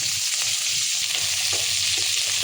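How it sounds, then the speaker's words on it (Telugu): Sliced onions and green chillies frying in hot oil for masala chicken fry, giving a loud, steady close-up sizzle with faint stirring scrapes and no talking. "ఇవి గోల్డెన్ కలర్లోకి వచ్చేంత వరకు ఫ్రై చేసుకోవాలి"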